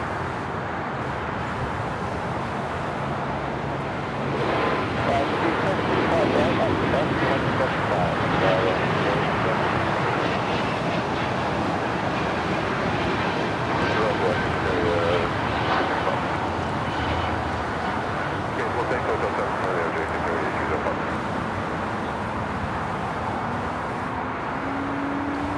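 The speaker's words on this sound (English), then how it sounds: "The Emirates A380 now on final for 24 rights." An Emirates Airbus A380 on final approach to runway 24R at LAX gives a steady, broad jet roar that holds at moderate loudness for the whole stretch, with faint talk in the background.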